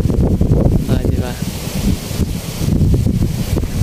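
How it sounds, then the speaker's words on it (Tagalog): Strong wind gusting at a beach resort in San Narciso, a heavy, loud rumble of buffeting on the microphone with rustling, continuous throughout, while a person talks over it. "Sobrang lakas ng hangin oh."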